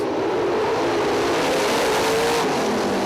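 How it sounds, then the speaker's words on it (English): 410 sprint cars accelerate at the green flag at Lawrenceburg Speedway, a dirt oval race. A loud, continuous roar of many engines revving hard fills the whole stretch without pause. "At the chalk there in turn number 4, that's where the green flag accelerates."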